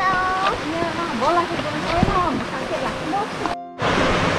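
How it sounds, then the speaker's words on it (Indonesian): River flowing beside the walking path to Madakaripura waterfall in Probolinggo, a steady rushing wash under someone talking throughout, cut by a brief dropout near the end. "di sebelah kanan kita disuguhin sungai, aliran sungai ini"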